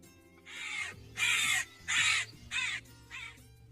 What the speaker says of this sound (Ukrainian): а тепер послухаймо, як каркає ворона